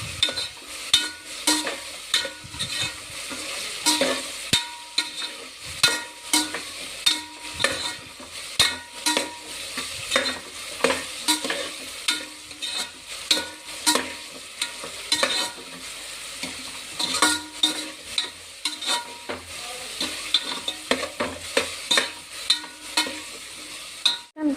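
Tomato and onion fry in a pan for a chicken gravy while a spoon scrapes and stirs in repeated rhythmic strokes over a soft sizzle. No one speaks.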